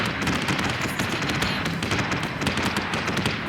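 Rapid spaceship gunfire from Viper fighters in Battlestar Galactica Deadlock PvP, a dense, continuous stream of crackling shots and impacts that stays loud and busy throughout.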